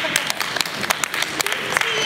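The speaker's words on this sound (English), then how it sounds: "Give yourself a round of applause." Brief burst of audience clapping at a campus forum talk, a few sharp claps standing out over a room murmur, with speech mixed in.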